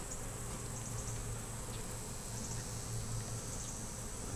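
Bees buzzing around a pine tree while gathering pollen, a continuous dense hum of many insects at close to moderate range, steady and unbroken with no voices.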